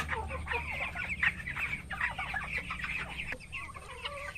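A flock of 15-day-old broiler chickens clucks and chatters continuously, overlapping calls close to the microphone with a low hum behind them.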